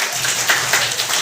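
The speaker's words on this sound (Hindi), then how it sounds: "तो शिवचरण के लिए भी तालियां बजेंगी भाई" Schoolchildren in a classroom clap for a classmate named Shivcharan, a brief, steady patter of applause from a small group at moderate loudness.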